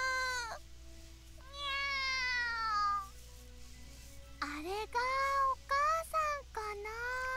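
Cat voices in the Hyperdimension Neptunia Re;Birth 3 video game, a string of rising and falling meows, first drawn out then quicker and choppier, moderately loud and clear.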